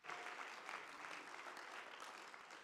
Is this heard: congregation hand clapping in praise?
yes